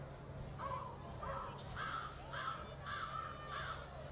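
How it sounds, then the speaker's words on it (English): Crows at a soccer field during a semi-pro match caw in a steady series of about six harsh calls, evenly spaced and moderately distant over a low background hum. "The Crows are making noise here at Edor Nelson."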